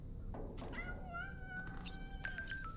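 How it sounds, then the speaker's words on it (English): In the video game Death Stranding 2, a cat gives a couple of drawn-out, wavering meows, fairly quiet and close, over a low ambient background. "There's a cat in this room?"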